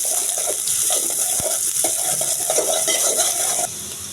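Chopped onion and chillies frying in hot oil in a pan, a steady sizzle with scattered stirring scrapes and clinks of a utensil against the pot, close and continuous before the sizzle drops slightly near the end.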